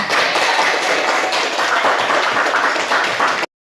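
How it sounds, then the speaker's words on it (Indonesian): Dense applause from a class, steady clapping for a few seconds before cutting off abruptly. "Tepuk tangan."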